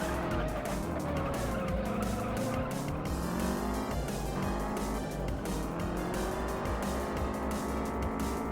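A race car engine in the street-racing video game Juiced, boosted with nitrous, roars loudly and continuously, its pitch climbing and dropping through gear changes with no talk over it.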